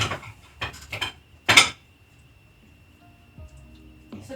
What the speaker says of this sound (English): All you have to do is just move your knife and the seeds will come straight